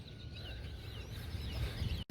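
Birds call outdoors on a chilly, bright day: a flock gives faint, repeated clucking and chirping calls over a low, rumbling background, ending in a brief cutoff.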